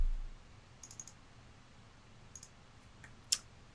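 Mouse clicks on a computer while saving a file in Adobe Illustrator: a few soft, quiet clicks scattered over a faint room hiss, with a sharper single click near the end.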